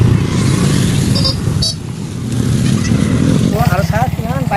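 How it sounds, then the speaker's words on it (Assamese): Motorbikes run close by on a road near a picnic spot at Komla Bagan, Bongaigaon, a loud engine drone that swells and fades, with someone talking over the passing traffic toward the end. "আৰু চাওক কিমান বাইকবিলাক গ'ল আপোনালোকে দেখাই পালে।"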